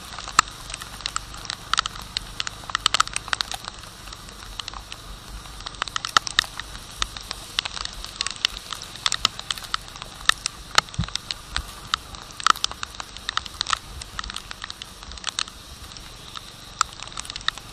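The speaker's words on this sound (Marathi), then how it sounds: "असा काहीसा पाऊस असतो" Rain falls during an evening ride in Goa, a scattered patter of drops with irregular sharp taps and clicks over a low, steady background.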